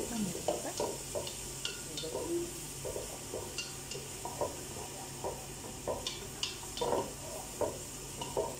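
Onions sauté in a biryani pot with a soft, steady sizzle, broken by repeated light scrapes and clinks of a spoon stirring the pan.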